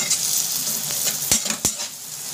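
Salt and turmeric being stirred into a sizzling cooking pan, steady frying hiss with a few quick scraping strokes of a spoon close by.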